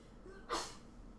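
A single short, sharp sneeze bursts out once, fairly faint against a quiet room background.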